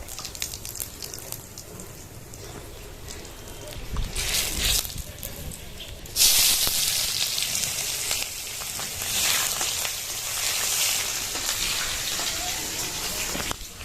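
Cumin seeds tempering in hot oil, a broad hissing sizzle that swells sharply partway through and keeps crackling, with a voice talking under it at times.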